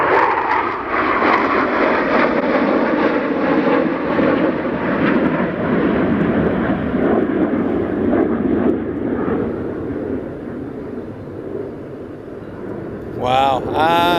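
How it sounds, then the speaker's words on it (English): Several RAF Panavia Tornado jets make a flypast, a loud, sustained engine roar that swells and slowly fades, while people talk excitedly over it and a whistling tone rises near the end. "That was the flyby of the last tornadoes for the RAF service."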